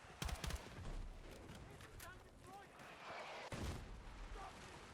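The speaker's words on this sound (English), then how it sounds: "We got the shotgun right here." Shotgun blasts and battlefield gunfire in the Battlefield video game, several sharp bangs early and again near the middle over a dense bed of distant shooting and explosions, with a voice talking throughout.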